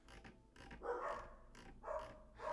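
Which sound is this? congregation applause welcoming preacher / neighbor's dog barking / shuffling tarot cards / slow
neighbor's dog barking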